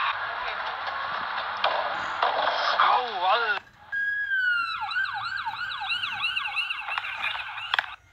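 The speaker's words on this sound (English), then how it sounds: "He really needs an ambulance." A loud wailing emergency siren plays as a sound effect, first steady and then switching to a rapid yelp pattern, continuing for several seconds.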